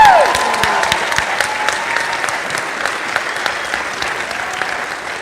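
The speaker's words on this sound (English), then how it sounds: "let's give one more round of applause, you guys." A crowd gives a loud, sustained round of applause at an LSU football gathering. Dense clapping with scattered cheers continues evenly throughout and fades only slightly toward the end.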